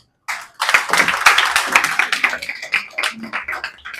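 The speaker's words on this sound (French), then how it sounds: "Je vous prie donc de l'accueillir avec des applaudissements nourris, notre parrain Cherif Diouf" Audience applause welcoming a sponsor at an integration ceremony in Saint-Louis, bursting in after a brief silence as close, crisp clapping from a group that stays lively and uneven to the end.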